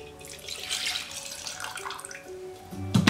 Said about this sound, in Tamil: 1/2 டீஸ்பூன் கிரைண்டரை கழுவி எடுத்து வச்ச தண்ணி அதையும் இதில் ஊற்றிக்கலாம்.